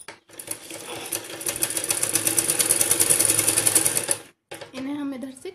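A sewing machine runs steadily for about four seconds, stitching pleats on a salwar, then stops; a voice speaks briefly afterward.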